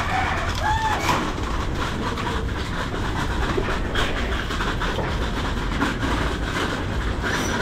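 Pigeons in a loft, heard as a steady dense flutter and cooing murmur with a soft chirp or two, continuous and close, no talking.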